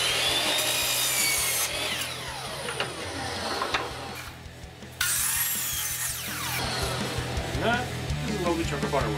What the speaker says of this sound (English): Let's cut these guys to length.